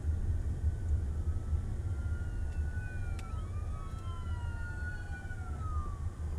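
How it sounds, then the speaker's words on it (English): An ambulance siren wails in long rising and falling sweeps, moderately distant, over the steady low rumble of a car driving on a city road in Austin. "Goes an ambulance"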